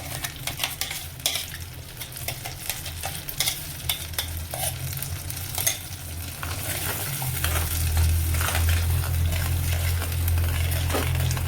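Masala paste for butter paneer frying in oil in a pan: busy scraping and stirring at first, then a louder, steady sizzle with a low rumble underneath.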